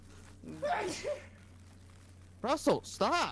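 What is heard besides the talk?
sneeze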